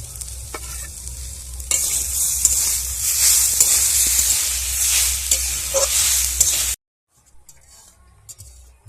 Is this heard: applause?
no